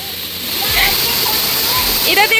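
A waterfall near Nainital, Uttarakhand, gives a steady, close, broadband rushing roar throughout, with voices speaking over the water.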